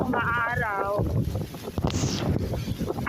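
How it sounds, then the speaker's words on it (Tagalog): Strong gusts of wind from Typhoon Nando buffeting the area, a loud, continuous roar with blustery swells, while a voice speaks over it near the start. "Ngayon po ay ramdam na ang hampas ng Bagyong Nando. Hangin pa lang at may dalang panaka-nakang buhos ng ulan."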